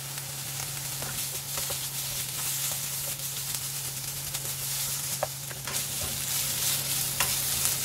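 Beef cooking in a pan with onion rings added, a continuous soft sizzle over a low hum, with scattered light clicks and scrapes of stirring.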